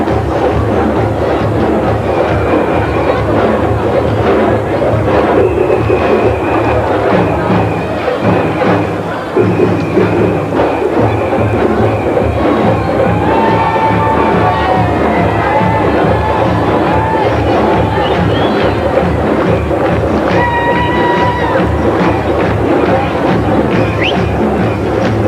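A dense carnival crowd at the Biennale de la Danse parade in Lyon, with loud sustained cheering, shouts and whistles over a busy street din, continuous and close for the whole stretch.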